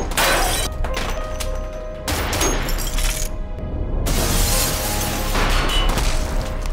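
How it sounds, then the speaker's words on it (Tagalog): Film sound of a glass wall shattering from a gunshot, loud crashing and breaking bursts layered over heavy dramatic noise, with several sharp impacts across the stretch. "Bigla namang lumitaw si Ruyo at binaril ang glass wall."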